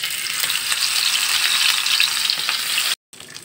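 Prawns coated in turmeric and salt fry in hot oil with a steady, dense sizzle. The sizzle cuts out briefly near the end, then resumes.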